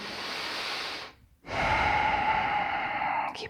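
A person breathes deeply through a yoga pose in a full-body class: a long airy exhale, a short pause, then another sustained breath, close and clear with no talking.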